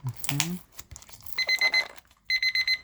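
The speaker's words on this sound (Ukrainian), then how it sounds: "Ось так він пищить, як старі, старі ці будильники." Humidity meter beeping like an old alarm clock, two bursts of rapid, shrill electronic beeps at close range, following a short stretch of someone speaking and packaging rustle.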